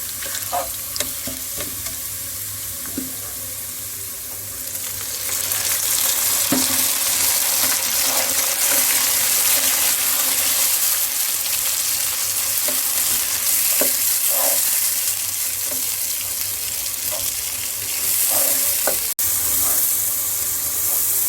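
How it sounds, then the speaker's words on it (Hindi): Ground spice masala fries on high heat, a steady loud hiss of sizzling oil that swells after a few seconds, with occasional light stirring scrapes. "पिसा हुआ मसाला डालेंगे और तेज आंच पर मसाले को भूनेंगे।"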